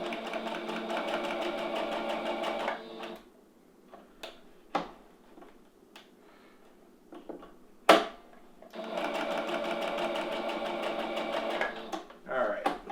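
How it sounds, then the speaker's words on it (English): A sewing machine runs a zigzag stitch back and forth across a small piece of elastic for a skirt, with two steady rattling bursts separated by a quiet gap of handling clicks and a voice speaking. "we'll just sew a couple stitches back and forth on this, and I'm going to go ahead and use my zigzag pattern"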